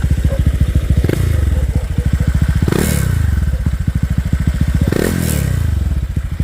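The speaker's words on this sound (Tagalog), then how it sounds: "Lakas ang vibrate ng plaka." Honda Click 125 scooter engine revving hard three times over a rough, pulsing idle, with the license plate rattling and buzzing loudly from the vibration, very close.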